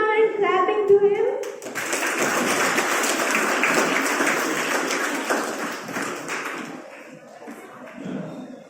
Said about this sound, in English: Let's give a huge round and clapping